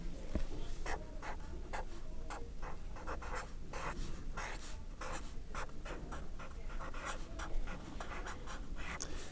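Steady scratching and tapping of marker or chalk strokes on a board during a classroom lecture on minterms and maxterms, a continuous run of short rhythmic strokes at moderate level with no talk.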